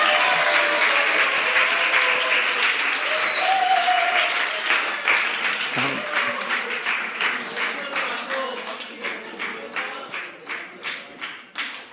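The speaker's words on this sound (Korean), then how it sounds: "뜨거운 박수로 맞아주시기 바랍니다" An audience gives warm applause as a sound and camera crew are welcomed forward at a lecture. The clapping starts dense and loud, then slows into a rhythmic, unison beat that gradually fades.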